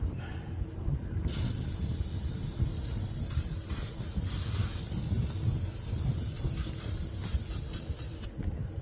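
A steady hiss of cleaner from a spray can runs for several seconds without a break, close and fairly loud, with a low rumbling background underneath, during a tractor rear axle seal replacement.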